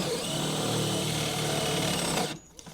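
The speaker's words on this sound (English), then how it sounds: "We're going to go ahead and drill our holes right now and get ready for the bolts." A power drill bores holes in a car body for nitrous fitting bolts, whining steadily for about two seconds before cutting off abruptly, close and alone.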